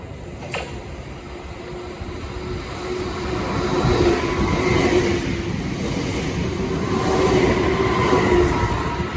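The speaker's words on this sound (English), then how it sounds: "Okay, the next train to pass by will be another Southeastern 465." A Southeastern Class 465 electric multiple unit passes on the line near Wandsworth Road and Clapham High Street, a steady broadband rumble that builds and holds loud for several seconds with faint rail clatter.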